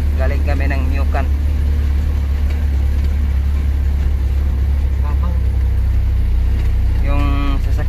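A vehicle engine rumbles continuously and loudly as it crawls slowly along a steep, muddy mountain road between Meocan and Arakan. Voices speak briefly over it now and then.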